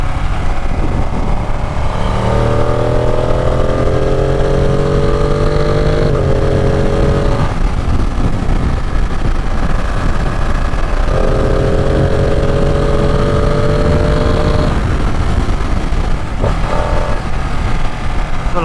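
A Ducati 959 Panigale with a stock exhaust is ridden hard along an empty stretch of road, its engine climbing through rising revs in long pulls, broken by quick upshifts from a quick shifter. Loud wind roar runs underneath the whole time.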